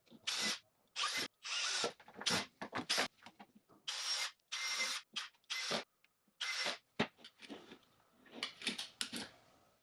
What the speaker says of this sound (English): I'm using a self-centering bit to drill the screw holes.